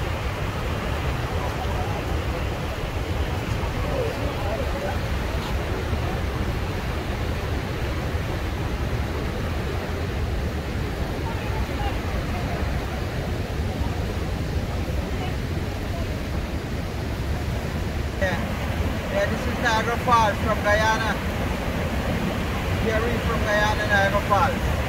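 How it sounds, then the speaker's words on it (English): Rough water at Niagara Falls, a constant broadband roar and rush of churning water and spray, steady and loud, with wind and voices faintly underneath. "see the water is very, very rough today"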